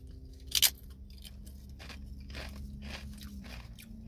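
Doritos Sweet & Tangy BBQ tortilla chips crunch in a sharp, close bite, followed by quieter chewing crackles over a low background hum.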